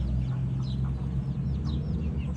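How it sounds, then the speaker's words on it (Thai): A young rooster clucks softly in short repeated notes over a steady low background hum. "คลิปนี้พามาชมไก่รุ่นตัวหนึ่งนะครับ"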